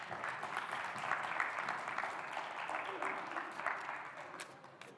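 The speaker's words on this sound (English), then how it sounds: "You can clap for her." An audience at a church youth night claps steadily, a soft, distant patter of applause sustained for several seconds.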